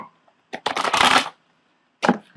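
Tarot and oracle cards, including a Romance Angels and Oracle deck, being shuffled by hand in a quiet room: a long riffling burst of papery flicks, then a short separate shuffle near the end.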